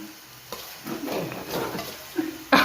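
Eggplant oro tempered in ghee sizzles in the pan as a spoon stirs it, a steady close fry with scraping strokes and a sharp hiss flaring up at the end.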